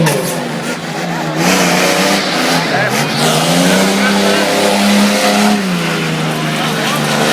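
A motorcycle engine revs and roars steadily at a stunt show at Ilha Solteira Moto Fest 2012, pitch climbing and dipping, while a Portuguese-speaking announcer talks loudly over it through a crowd-like din.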